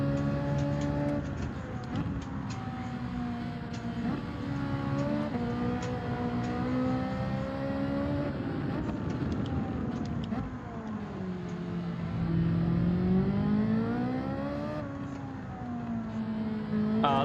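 Car engine in the Gran Turismo 7 video game, a continuous close whine rising and falling as the car accelerates and brakes through corners of a race track, with faint ticking clicks.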